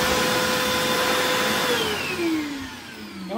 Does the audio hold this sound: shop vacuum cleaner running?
yes